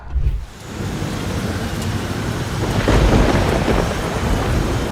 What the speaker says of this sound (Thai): ตอนนี้ฝนตกหนักมาก ได้ยินเสียงฟ้าร้องฟ้าแลบ